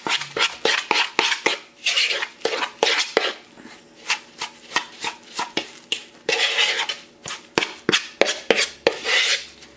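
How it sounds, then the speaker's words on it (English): A spoon scraping and knocking around a bowl while stirring homemade guinea pig treat mixture, a close, repeated rhythm of clinks and rasping strokes with short pauses, no talking. "we're just going to start mixing it up and really blending that in there"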